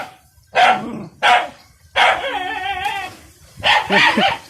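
A dog barks in short, loud bursts near a field hut where a snake has got in, with a couple of sharp barks followed by a longer whining, yelping stretch and more barks.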